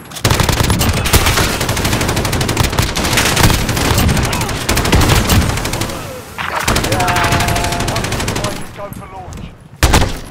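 Rapid automatic gunfire in a Call of Duty Search and Destroy match, loud, close bursts that fill most of the stretch, with a short pause midway and a final burst at the end.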